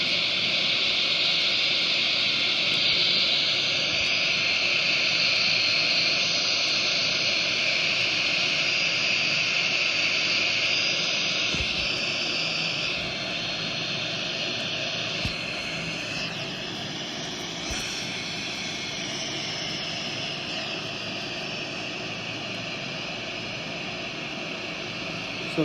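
Aircraft engines in a flight simulator drone loudly and steadily through a landing, a broad jet roar with a high whine that eases slightly partway through, with no voices.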